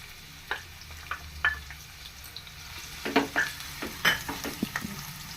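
Chopped onions and green chillies fry in hot oil with a low steady sizzle, punctuated by irregular clinks and scrapes of a spoon against the pan that grow busier toward the end.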